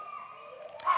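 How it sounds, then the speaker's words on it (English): A hornbill calls in a rainforest, a short tonal cry rising over faint, steady insect and bird background, brief and moderately distant. "that's a hornbill, a giant bird."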